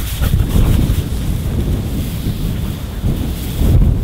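Strong storm wind buffets the microphone on an outdoor bird hunt, a loud, continuous rumbling roar with gusts that swell and fall and no break.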